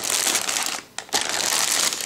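A plastic bag holding the sprues of a ZIL-131 model kit crinkles and rustles close up, with a brief pause in the middle before the handling resumes.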